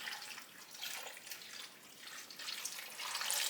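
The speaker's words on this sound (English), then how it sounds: "Add the water." Water pours into a pot of damsons being prepared for jam, a soft trickling splash that swells and fades unevenly, close by, with no talk.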